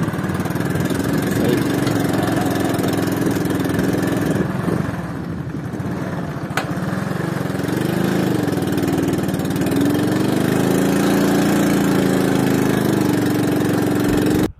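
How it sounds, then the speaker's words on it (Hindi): Motorcycle engine running steadily while riding through desert sand at night, a continuous loud mid-pitched drone with wavering revs and a brief dip partway through. "रेत में मोटरसाइकिल चलाना खासा दुश्वार अमल है"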